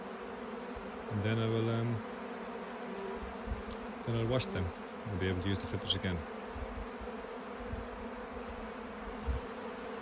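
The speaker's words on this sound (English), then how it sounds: "So I let the bees clean it up first" Bees buzz around wax honey filters set out for them to clean, a low droning hum with intermittent louder passes near the microphone while a person talks.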